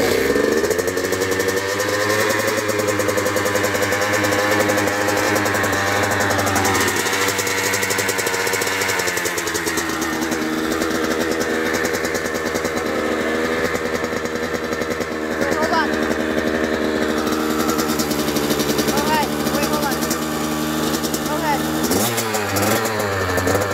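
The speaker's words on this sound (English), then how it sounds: "this is my brother starting the bike. It's so loud, let me tell you that." A Kawasaki KX85 dirt bike on its stock exhaust starts and revs, holding a loud, steady two-stroke drone for the whole stretch, with brief pitch swings as the throttle blips near the end, and voices may run underneath.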